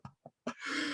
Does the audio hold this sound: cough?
yes